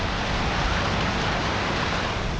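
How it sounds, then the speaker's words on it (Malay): Heavy rain pours steadily at a fishing platform out on the water, a dense, loud, continuous hiss with no distinct thunder audible in this stretch. "Hujan lebat petir pula tu."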